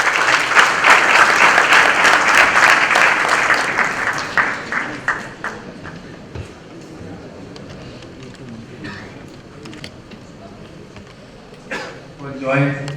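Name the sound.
audience applause welcoming Suresh Prabhu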